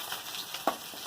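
Spices crackle and sizzle in hot mustard oil left over from frying fish, a soft continuous fry with a few brief pops, close and fairly quiet with no talk.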